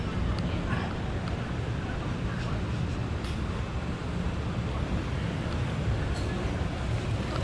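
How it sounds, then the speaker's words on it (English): Steady broadband roar of air conditioner exhaust from a wall of units on a Taipei street, a continuous whooshing blast heard up close with wind-like rumble and no pauses. "That wall of aircon exhaust"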